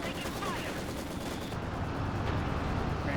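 Dense, continuous battlefield gunfire and rumbling explosions from a Company of Heroes 2 match, a loud unbroken din of overlapping shots with faint commentary voices beneath it.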